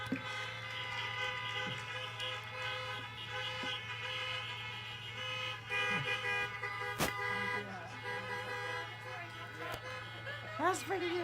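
Car horns honk in a long, sustained chorus at a community college graduation celebration, layered over crowd noise and voices, with a few sharp louder blasts standing out.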